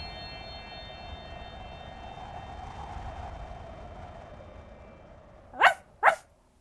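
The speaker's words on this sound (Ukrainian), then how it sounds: "Раптом Ре почув гавкіт Меркурія з іншої кімнати" Two sharp dog barks in quick succession near the end, following a steady low hum in an otherwise quiet room.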